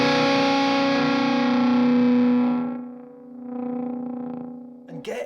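A loud, saturated electric guitar note through a fuzz pedal sustains, then breaks up and sputters as it decays, ending with a sharp buzzy burst.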